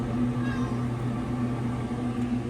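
Cats meow inside an enclosed outdoor catio, a few short calls rising over a steady low hum, fairly close and moderately quiet.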